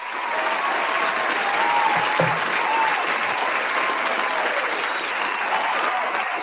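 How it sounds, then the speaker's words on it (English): Loud, continuous applause from a crowd, dense and even throughout with faint voices and cheers mixed underneath. "So round of applause for that"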